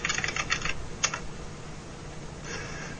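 Quick bursts of typing on a computer keyboard, a rapid run of keystrokes, a short pause, a brief cluster, then another short run, close and moderately quiet with no talking.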